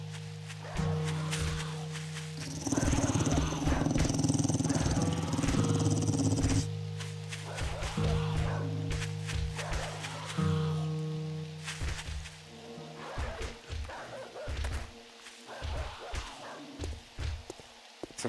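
Hostile dogs attack in the survival game 7 Days To Die during a blood moon cell tower assault, with repeated snarling growls and barks mixed with footsteps, thuds and droning game music, coming in bursts at close range.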